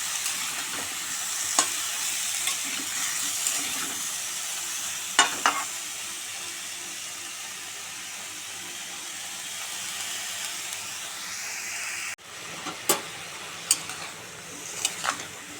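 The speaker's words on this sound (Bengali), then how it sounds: "নুন দিয়ে দিলাম, হলুদ দিলাম, ভালো করে নেড়ে ফেড়ে দেবো" Vegetables seasoned with salt and turmeric are stirred in a frying pan, with a steady low sizzle and hiss underneath occasional sharp scrapes and taps of the spatula against the pan, close and fairly quiet.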